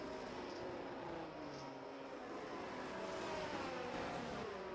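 Steady, continuous engine drone of race cars on a formation lap at Imola in a sim racing game, a dense unbroken roar at even loudness with no distinct passes.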